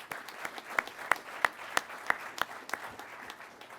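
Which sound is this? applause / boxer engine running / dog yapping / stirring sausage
applause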